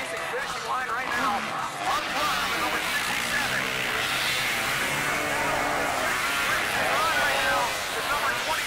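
Three-wheelers racing at an indoor snowmobile event, their engines a steady, dense roar echoing in a large arena, with an announcer's voice talking over the noise throughout.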